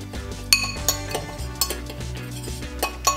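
Utensil clinking and scraping against a bowl while almond flour, tapioca flour, cacao, brown sugar, salt and baking soda are stirred together for gluten-free waffle batter, with repeated sharp clinks in an uneven rhythm over a steady low hum.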